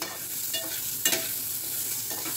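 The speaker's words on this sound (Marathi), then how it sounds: "आपल्याला मीडियम गॅसवरती कांदा परतून घ्यायचा आहे" Onion sautéing over medium heat, a soft steady sizzle with a couple of spatula scrapes, close and brief.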